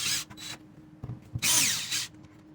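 Power drill backing screws out of a hardwired smoke detector's mounting plate, heard as two short whirring bursts near the start and a longer, louder run later, close by with quiet gaps between.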